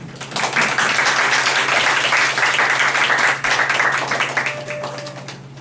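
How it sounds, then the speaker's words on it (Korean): Welcoming applause from a church congregation greeting a preacher, a loud, dense wash of clapping that swells quickly, holds steady and tapers slightly toward the end over a low constant hum. "박수로 환영하겠습니다"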